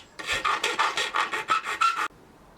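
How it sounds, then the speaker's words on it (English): A metal file rasps back and forth in about ten quick, even strokes, smoothing the rough cut end of a nail, close and crisp, then stops abruptly. "Then smooth down the rough edges with the file."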